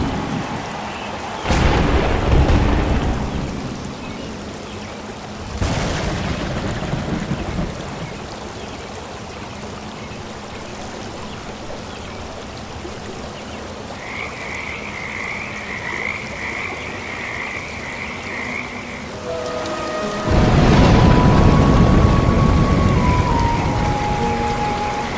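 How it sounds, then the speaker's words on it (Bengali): Island cyclone storm with heavy rain: steady rain wash throughout, sharp loud thunder cracks near the start, and a rhythmic croaking chorus of frogs in the middle, with a low rumbling surge toward the end. "বাবা, এই ঝড় বৃষ্টি কি শেষ হবে না আর?"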